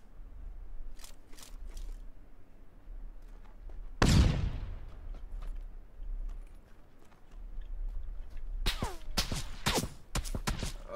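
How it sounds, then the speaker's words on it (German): Gunfire in the battle royale video game PUBG: one loud, sharp shot rings out midway over steady in-game ambience, followed by a rapid cluster of several cracking shots toward the end. "Ich hab keine Ahnung, von wo die Schüsse kamen."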